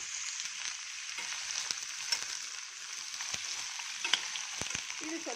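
Peas, kasuri methi and curry leaves frying in a cooker pot, giving a steady soft sizzle with a few light stirring clinks and scrapes.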